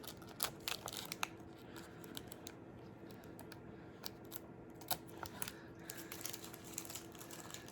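Scissors snip excess material off a handmade journal cover, a series of sharp, close crisp cuts and paper-like crinkles in an uneven rhythm over a quiet room.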